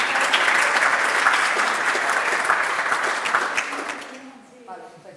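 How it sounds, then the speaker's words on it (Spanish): An audience at a talk applauding loudly and continuously for several seconds before the clapping fades out, with a voice speaking briefly at the end. "Un aplauso, por favor, para Gloria."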